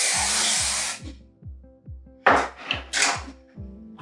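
A spray bottle of hair product sends out short hissing bursts, first one long spritz and then several quick puffs in a row, heard close and alone without any talk.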